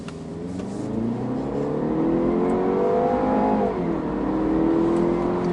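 A 2018 Jaguar E-Pace petrol SUV engine revs up under acceleration, pitch rising smoothly, easing briefly, then climbing again, heard from inside or close by, with no talking.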